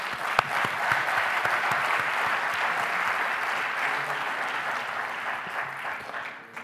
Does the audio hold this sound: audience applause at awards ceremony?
yes